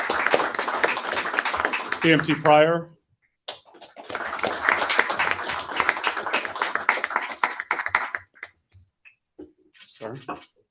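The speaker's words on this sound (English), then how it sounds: "we can clap for him" Audience at a township council meeting clapping for EMTs, dense bursts of many hands clapping with brief quiet gaps, and a voice speaking between the rounds.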